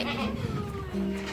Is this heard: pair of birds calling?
no